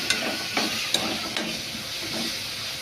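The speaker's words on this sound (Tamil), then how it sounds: "இஞ்சி பூண்டு பேஸ்ட்டு போட்டுக்கிட்டு நல்லா கிண்டிக்கலாம்" Ginger garlic paste being stirred while frying for a crab dish, with steady sizzling hiss and several distinct spoon scrapes against the pan at regular intervals, close and alone.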